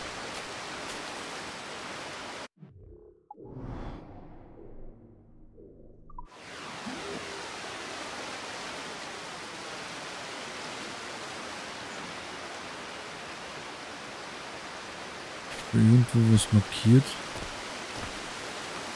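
A video game waterfall pours as a steady, loud broadband rush that fills most of the stretch, dropping out briefly near the start, with a person talking over it.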